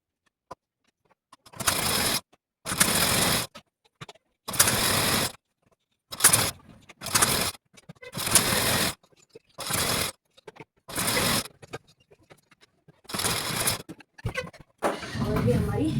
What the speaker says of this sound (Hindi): फाइनल सिलाई कर देंगे।